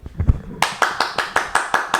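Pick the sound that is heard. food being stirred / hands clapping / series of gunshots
hands clapping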